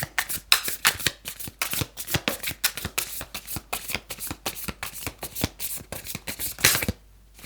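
Tarot cards shuffled by hand, a rapid run of crisp riffling slaps and flutters at close range, ending in a brief pause with no voices.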